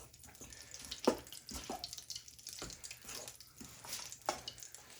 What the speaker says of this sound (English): we're just going to pour this hot water just right over the top